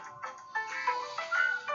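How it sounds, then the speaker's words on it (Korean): A phone ringtone plays an incoming call as a continuous warbling electronic melody of shifting tones, moderately loud and heard alone without talk. "전화가 와서 잠깐만 쉬었다가 어, 전화를 받고 다시 할게요"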